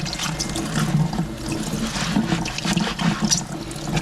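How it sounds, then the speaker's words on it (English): Running tap water rinses a stamp cleaning pad in a strainer at a sink, a steady close splashing and trickling stream that goes on without a break and without talk. "I'm gonna let that rinse and just kind of drip dry in my strainer here."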